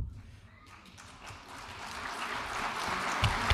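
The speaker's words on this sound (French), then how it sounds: "ces applaudissements me font chaud au cœur" Audience applause at a political speech about Europe, a broad, steady clatter of clapping that swells gradually and holds at moderate loudness for several seconds with no voices over it.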